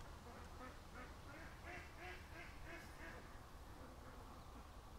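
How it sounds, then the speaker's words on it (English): Ducks quacking at a creek, a run of repeated quacks in a steady rhythm at moderate distance, set against constant outdoor noise, fairly faint overall. "all the ducks are leaving the creek"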